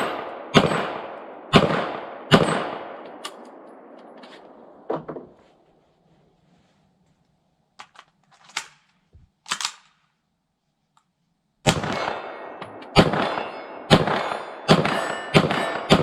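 Gunshots from an IWI Uzi Pro 9mm fired at steel plates out to 15, 25 and 40 yards on an outdoor range: a run of sharp, loud reports in uneven bursts, a quiet gap with faint distant pings, then a fresh rapid string of shots.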